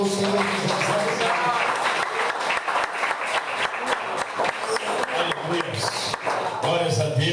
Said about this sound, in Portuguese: E as palmas louvam o Senhor Jesus.